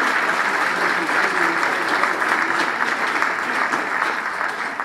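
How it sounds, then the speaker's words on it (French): An audience at a charity golf tournament dinner applauds, a dense, even roar of clapping from a large crowd that holds steady and loud throughout. "Vous pouvez vous applaudir."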